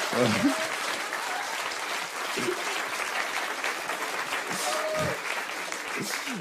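Comedy show audience applauding, a dense continuous wash of clapping at moderate level for several seconds, with a performer's voice and laughter breaking in over it.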